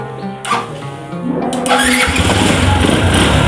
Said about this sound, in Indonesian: Oke, motornya bisa hidup ya. Motornya bisa hidup teman-teman.